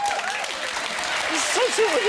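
A studio audience at a TV talk show claps in a sustained wash of applause, with voices and whoops rising over it toward the end.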